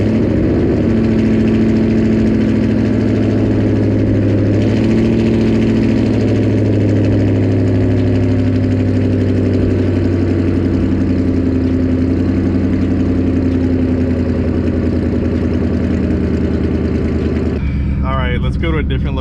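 A 2005-2010 Ford Mustang GT with the 3V V8 and a muffler delete idles steadily and loudly at close range, a deep rumbling burble that holds for most of the stretch before a brief shift in tone near the end.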